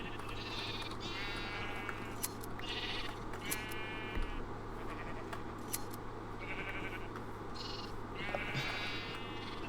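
Sheep in a colony-building video game bleat repeatedly in short, nasal calls over a steady background hum, several overlapping bleats spread across the clip at moderate loudness.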